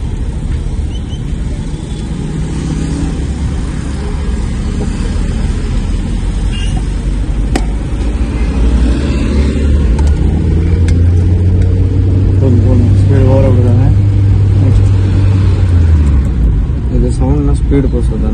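A car engine hums and rumbles steadily during a driving lesson on steering left and right, rising in a low revving swell midway, with clutch use, while someone talks in Tamil throughout.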